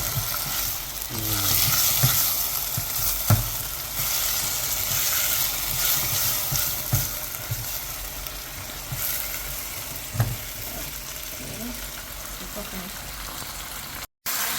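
Sambal for nasi lemak fries in oil, its paste separating, with a steady close crackling hiss and occasional knocks of stirring; a faint voice may sit low in the background.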